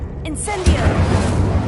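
A fire spell from a video game opens with faint shimmering chimes, then a roaring, crackling blast takes over and stays loud and steady.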